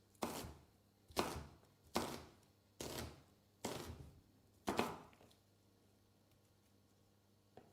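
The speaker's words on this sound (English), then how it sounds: "Just hear the chopping noises." Food being chopped on a board in a home kitchen, six sharp, close knife strikes spaced about a second apart, each with a brief ring-out, over a quiet background.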